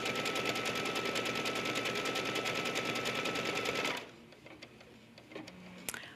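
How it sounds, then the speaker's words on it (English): An embroidery sewing machine runs a triple stitch in a loud, fast, steady mechanical chatter for about four seconds, then stops, leaving faint handling clicks and a short soft tone at the end. "this is going to stitch a triple stitch"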